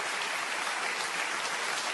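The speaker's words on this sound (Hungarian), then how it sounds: "Na most lehet tapsolni" An audience applauds at a comedy stand-up show, a dense, steady wash of clapping that fills the room with no talk over it.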